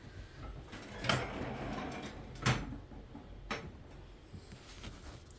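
Heavy lid of a computerized glass kiln in a glass studio being opened, with several sharp knocks and clunks of hinges and metal spaced a second or two apart over quiet room hiss.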